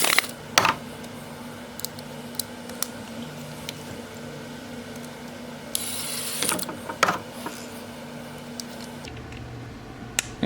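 Small screws being driven back into a replacement 2.0 top lid button lock, giving a run of faint ratcheting clicks and scattered sharp ticks from a nearby screwdriver, with a brief scraping handling burst partway through.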